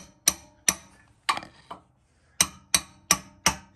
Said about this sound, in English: Then you're going to want to take a hammer.